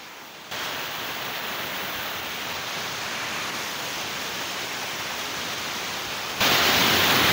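A hidden waterfall in Odisha roars in a dense, unbroken rush of falling water, loud and steady throughout and swelling even louder near the end.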